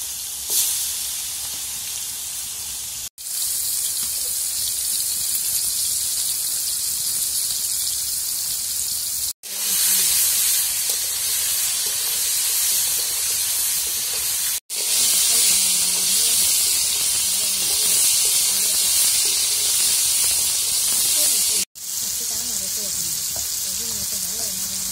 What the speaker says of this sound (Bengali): তেলটা গরম হয়ে গেছে, এখন মাংস দিয়ে দিল।